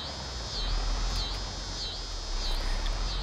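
Cicadas in Farming Simulator 22 buzz steadily in the outdoor game ambience, a high rhythmic pulsing drone that rises and falls about every second and runs alone without any voices.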